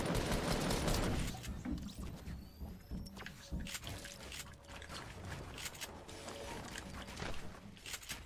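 Rapid, dense gunfire from a video game battle, bursts of shots crackling steadily through the whole stretch, loudest at the start, with no voices over it.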